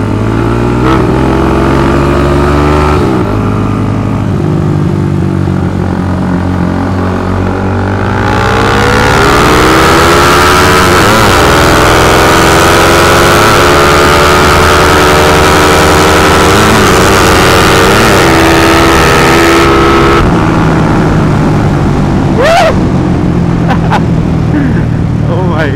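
A tuned Suzuki Raider FI motorcycle in a drag race against a Rusi, its engine loud and close, revving up through climbing pitch in long pulls with gear changes, with a voice talking over parts of it.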